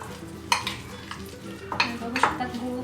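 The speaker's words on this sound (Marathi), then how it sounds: "त्याला पूर्ण एकजीव करून घेऊ आपण, म्हणजे गूळ त्याच्यामध्ये पूर्ण मिक्स होईल।" Jaggery being mashed and stirred into wood apple chutney in a pan, heard as a few distinct scraping and knocking strokes of a spoon against the pan over quiet background.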